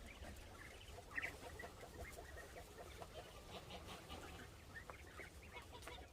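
Quail chatter and cluck softly in their pen, a steady faint background of small bird calls with occasional sharper chirps, distant and continuous with no talk.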